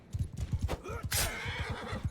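A horse in the medieval combat game Mount & Blade II: Bannerlord gives a loud, close whinny lasting about a second, set over a steady rhythm of galloping hoofbeats and battle noise.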